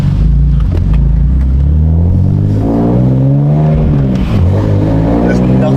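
BMW E46 engine blips loudly while downshifting, with several rising and falling rev sweeps over a steady close-up rumble inside the car.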